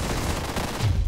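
Turret gunfire in the video game One Step From Eden, a rapid, dense burst of loud repeated shots that runs without pause for the whole short stretch.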